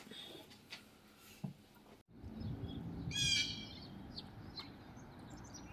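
Small birds chirp near scattered bird seed outdoors, where squirrels are also feeding. A short, bright burst of tweets stands out at moderate distance over steady background rumble.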